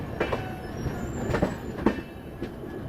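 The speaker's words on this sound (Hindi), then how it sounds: "क्या बात है, डीजल लोकोमोटिव" A WDP 4D diesel locomotive hauling a railway inspection car and research coach passes by, giving a steady rolling rumble with several rhythmic wheel clacks over about three seconds, moderately loud and with no talk.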